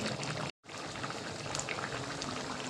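Chicken curry with curry leaves bubbles and simmers in oil over a medium-low flame, a dense continuous popping and burbling close by, briefly cut by a moment of silence early on; no talking.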